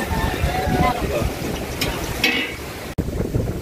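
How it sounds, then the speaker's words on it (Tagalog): Strong wind roars broadband across the microphone, steady and loud with gusty swells, with brief bursts of noise and a sudden dropout near the end. "dumating na ang malakas na hangin"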